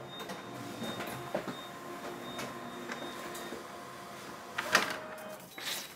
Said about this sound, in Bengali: যেটা স্টোর করেছিলাম সেটা প্রিন্ট আউট হয়ে বেরিয়ে এলো